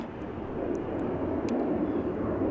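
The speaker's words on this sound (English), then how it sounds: "Over here, the so manyth Embraer 175 is lining up." Steady jet rumble from an Embraer 175 lining up for departure at Amsterdam, a continuous, fairly distant engine drone that builds slightly.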